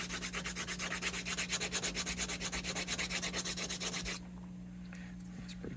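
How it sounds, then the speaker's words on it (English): Hand sanding wood using an old belt sander belt glued onto a block, a rapid rhythmic rasping scrub of steady back-and-forth strokes, close and fairly loud, stopping abruptly near the end and leaving a low hum. "take an old belt sander belt and glue it something like that"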